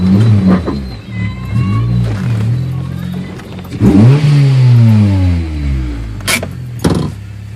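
A lowered car with a B-series engine swap drives by on the road, its engine revving and accelerating in repeated rising pulls with shifts between them, loud and close, ending with a couple of sharp clicks.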